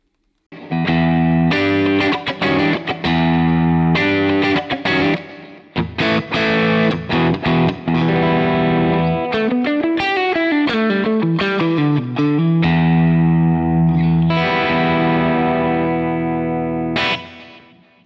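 Electric guitar through the clean channel of a Marshall Silver Jubilee Studio amp, played as loud chords and picked single-note runs with a bright, slightly driven edge, continuous and close for most of the passage.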